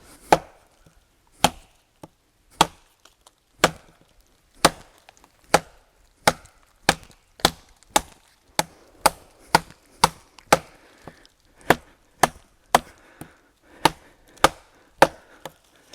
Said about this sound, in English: this is a piece of dead, some kind of evergreen. I think it might be spruce, hemlock, that we've been chopping on for some other reviews.